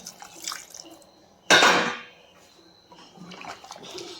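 Hot water pours into a pan of green chicken cooked in a yogurt and green chilli masala, making one short, loud gushing splash. Quieter stirring and pan sounds come before and after.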